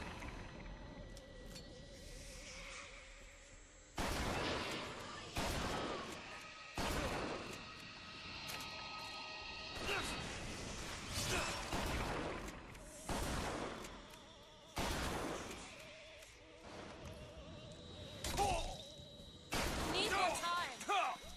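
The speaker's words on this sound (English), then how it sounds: "I choose the shotgun because it can take down the zombies a lot quicker and it pushes them back when they get shot" Shotgun blasts in the video game BioShock Infinite, loud separate booming shots spaced a few seconds apart with crashes and clatter between them, over a bed of game noise and a talking voice.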